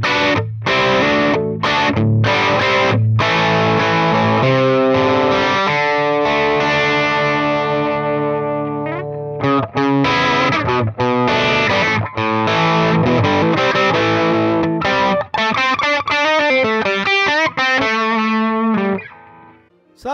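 An electric guitar played through an AX8 amp block model on a low-gain setting rings out chords and single notes with brief pauses, then a quicker run near the end, all loud and close with no voices.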